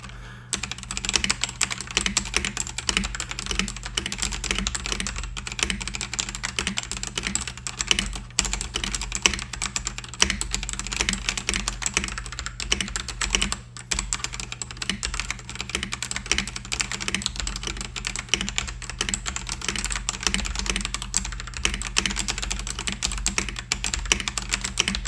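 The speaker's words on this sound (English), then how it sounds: "connect the keyboard so I can do a typing sound test." Steady typing on a Nimbleback keyboard silenced with Kilmat strips, a dense continuous stream of soft keystrokes, close and even throughout with no talk and a low hum beneath.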